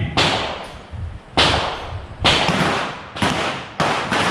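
Four loud, sharp pistol gunshots ring out one after another at an uneven pace at a shooting competition, each with a short echoing tail, with no voices.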